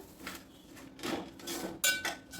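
Green pea usal is stirred in a cooking pot after lemon juice and coriander go in, with soft scraping and a few close, light metallic knocks of a spoon against the pot, and no talking.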